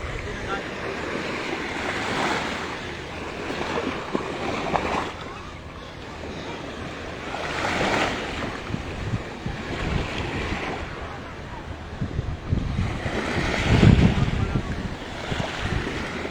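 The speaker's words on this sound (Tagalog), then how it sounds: "Kaya yung dagat dito guys." Sea waves washing onto the beach at Sembawang Park, Singapore, a steady broad wash with gusting wind noise and swells that rise around the middle and again near the end.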